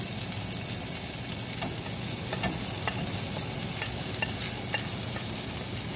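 Smoked marlin frying in a pan gives a dense, continuous sizzle with light scraping from stirring, steady and close throughout, with no voices.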